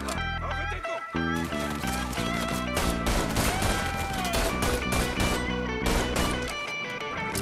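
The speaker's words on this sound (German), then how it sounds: "Hey, wieso schießen die Flachzangen denn?" Sustained gunfire from Mafia 3, with dense rapid bursts of shots and crashes layered over loud game music, continuing throughout at close range.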